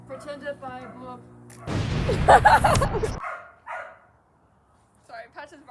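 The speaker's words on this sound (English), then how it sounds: "Sorry, Patch is barking." A dog barks in a short, loud burst in the middle, with people talking before and after it.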